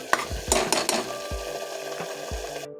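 Chana dal and potato curry stirred and frying in oil over a high flame for a dhaba-style dish, with a ladle scraping the pan in repeated strokes against a low, steady sizzle.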